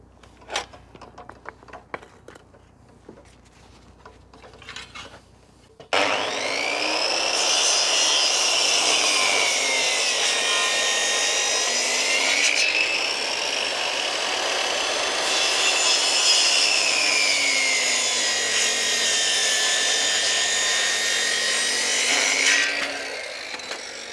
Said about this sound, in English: Again with the big saw.